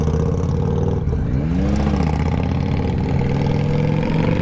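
A 2023 Yamaha MT-09 SP motorcycle engine runs steadily and loudly, rising and dipping in pitch as the rider quick-shifts down through the gears.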